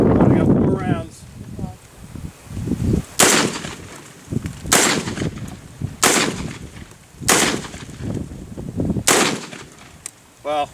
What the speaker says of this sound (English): we're going to shoot some bird shot now, number 8